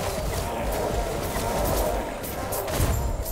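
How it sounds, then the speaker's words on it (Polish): Explosions go off during combat in the action RPG Last Epoch. Overlapping booms and crashing bursts follow in quick succession, loud and continuous, with other game noise underneath. "Wow, co to za wybuchy."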